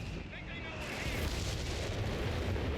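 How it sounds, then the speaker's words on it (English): Artillery fire in Company of Heroes 3 during a 4v4 match on Monte Cavo: continuous heavy rumbling booms that swell after the first second and keep rolling, with a voice talking over them. "Nope, just normal artillery."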